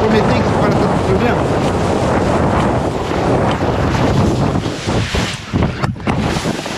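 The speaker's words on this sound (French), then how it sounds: "J'espère qu'on va bien m'entendre quand même les gars avec le vent" Strong wind roars steadily across the microphone while kitesurfing on a river, a loud broadband rush with gusty buffeting that dips and flutters toward the end.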